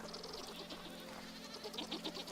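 Goats on a farm in the survival video game Vintage Story give several soft, wavering bleats, overlapping at moderate distance against a quiet ambient background.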